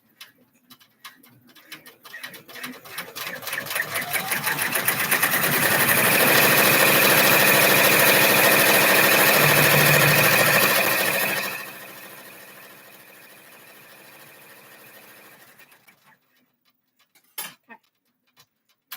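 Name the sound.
embroidery machine doing placement stitching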